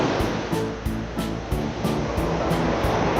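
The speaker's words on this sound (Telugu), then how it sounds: "కుదిరిగా అలలు బాగా ఘోరంగా వస్తున్నాయి" Strong, dangerous sea waves crashing at a Kuwait beach: a loud, continuous roar of surf with a rhythmic, gusting pulse, heard close with no talking over it.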